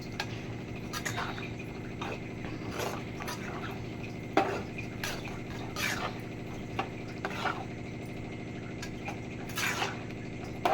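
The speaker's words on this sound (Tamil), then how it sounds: "வந்து நல்லா கலக்கலாம்" Potato masala being stirred in a pan in a home kitchen, with a steady sizzle under scattered spatula scrapes and taps at close range.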